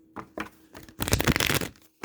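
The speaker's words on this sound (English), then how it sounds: "I'll shuffle my cards a little bit more" Tarot cards being shuffled by hand: a few short riffling bursts, then a longer, denser flurry of shuffling, close and crisp, followed by one more brief riffle, with no talking.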